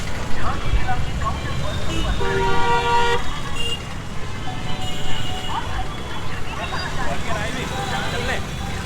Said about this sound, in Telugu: ట్రాఫిక్ అయితే ఎక్కువ ఉంది.